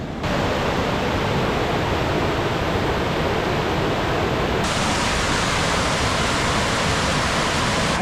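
Loud, steady roar of rushing water filling the whole clip, broadband and continuous like a fast river close by, near Valdez, Alaska, with no voices.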